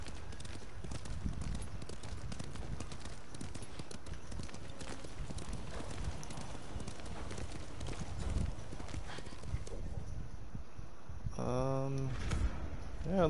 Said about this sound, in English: I don't even know if this is my horse.